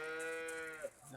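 A single cow lows on a farm, a long drawn-out moo with strong harmonics that fades out near the end, close and clear with no talk over it.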